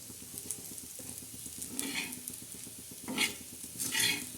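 Sukat dried fish roasting dry in a pan, with a soft sizzle and a few distinct spatula scrapes and stirring strokes against the pan, fairly quiet and close.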